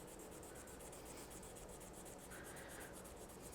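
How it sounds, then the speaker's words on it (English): A cane reed is lightly wet-sanded with 400-grit sandpaper over a knife-worked area, giving a faint, continuous soft rubbing hiss with no pauses. "wet the reed, and just lightly sand over the area that I worked with the knife"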